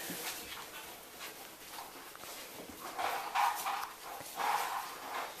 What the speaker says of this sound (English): Puppies are up and moving tonight